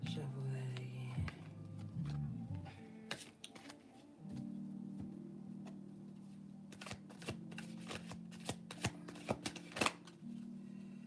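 Tarot cards shuffled by hand during a reading, producing repeated soft riffling bursts and sharp crisp snaps that sit over a steady low hum, close to the listener.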